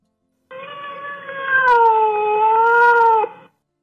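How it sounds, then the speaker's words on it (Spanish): A cat gives one long, loud, drawn-out meow with a slight wavering pitch, heard close and alone for about three seconds. "Gato."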